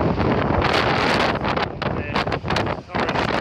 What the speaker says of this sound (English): Hope it's not too windy for you.